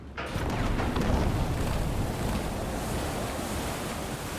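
Water waves splash and surge in the horror game Reanimal, a loud continuous wash of surf and churning water with a windy, boat-like roar that holds steady throughout, no talking.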